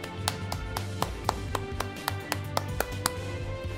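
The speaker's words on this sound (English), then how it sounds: "Everyone clap. Clap for Zen Striker." Sparse, evenly spaced claps or taps ring out roughly every quarter second over a steady low background hum, a small, thin round of clapping rather than a full crowd.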